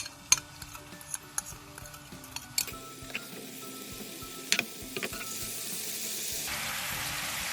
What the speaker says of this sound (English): Then add seasoning sauce and boil it.